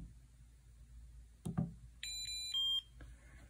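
An HP 41C calculator beeps while running a FOCAL program called from FORTH: a short burst of tones at a moderate level, with a few close electronic beeps in a quick sequence after a brief click.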